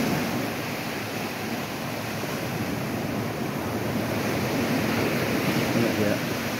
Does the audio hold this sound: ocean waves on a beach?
yes